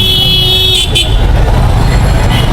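A traffic jam of rickshaws and motorcycles, some coming the wrong way as a school lets out, with loud, close engine rumble and short horn toots rising over the din.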